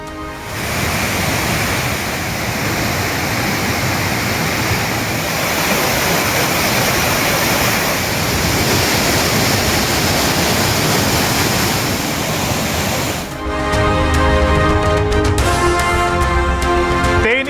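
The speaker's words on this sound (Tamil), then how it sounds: "தண்ணீர் ஆர்ப்பரித்து கொட்டுவதால் திருப்பரப்பு அருவியில் குளிக்க சுற்றுலா பயணிகளுக்கு 5வது நாளாக தடை விதிப்பு" Thirparappu waterfall in Tamil Nadu roars in flood, a loud, steady torrent of rushing water, with the crashing tone shifting briefly near the end.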